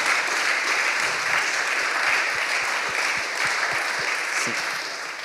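An audience applauds steadily and loudly throughout, a dense wash of claps that thins slightly toward the end, with no talk over it.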